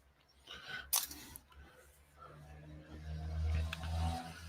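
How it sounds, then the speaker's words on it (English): Street traffic rolls past an open window on a wet day, with low engine rumble swelling to louder passes toward the end and a sharp click near the start. "You can probably hear all the traffic going by."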